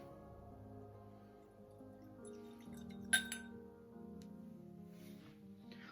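Whisky sample of Scapa Skiren, a Highland single malt, poured into a glass, with a brief bright clink of glass near the middle over a faint background hum.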